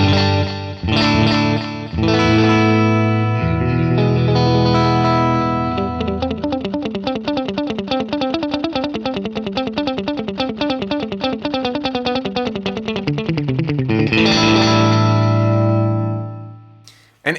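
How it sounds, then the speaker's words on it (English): Electric guitar through a Boss DD-20 pedal on standard digital delay, about 300 milliseconds with moderate feedback, sustained chords followed by a run of quick picked notes trailed by repeating echoes, then a ringing chord fading out. "This is the standard digital delay,"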